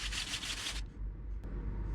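Sandpaper rubbing along the edges of finished handmade coasters, a steady broadband scraping for most of the clip that stops partway through, with no talk over it.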